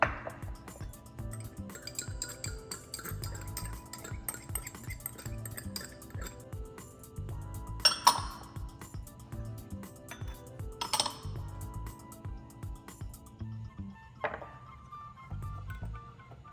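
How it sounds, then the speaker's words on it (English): Sauce ingredients and cornstarch whisked together in a small bowl for a broccoli stir fry, a steady soft rhythmic clinking of a utensil against the bowl with a few sharper taps, close and quiet, no voices. "Mix all the saucy ingredients together in a small bowl."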